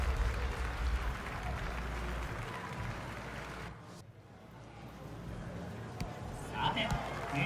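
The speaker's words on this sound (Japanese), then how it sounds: "選手たちに盛大な拍手を送ろう。" Stadium crowd applause at half time in FIFA 23 VOLTA Football Tokyo, a broad distant roar of clapping and crowd noise under a commentator's voice, dipping briefly midway before rising again.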